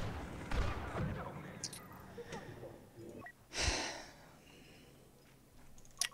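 Grenade blasts in Star Wars Battlefront 2 multiplayer come as a few muffled booms spread through the fragment, the biggest at mid-clip, with a faint voice and game noise in between.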